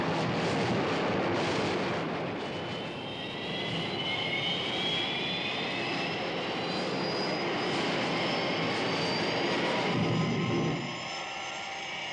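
Thunderbird 1, the rocket aircraft from the Thunderbirds television series, roars in a sustained jet-engine sound effect with a rising whine, loud and continuous before dropping away near the end.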